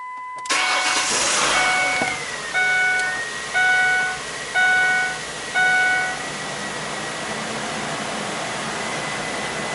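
A 2004 Ford Explorer engine cranks and fires, then settles to a steady idle while a series of four chiming warning beeps sound over it.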